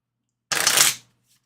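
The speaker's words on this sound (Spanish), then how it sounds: "Déjame barajar aquí bien las cartas." A quick riffle of Lenormand cards being shuffled, close and crisp, lasting about half a second before silence.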